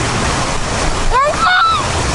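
Surf and waves wash steadily along a shoreline in a continuous broadband roar, while a voice briefly rises over it partway through.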